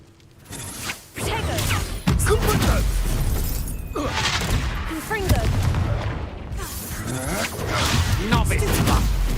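The Confringo fire spell is cast repeatedly in the video game Hogwarts Legacy, producing whooshing bursts and crackling impacts one after another, with game voices talking over the effects.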